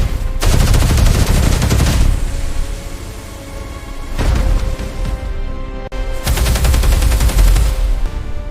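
Bursts of rapid gunfire from weapons shooting at a robot in a video game, three long loud volleys separated by short pauses.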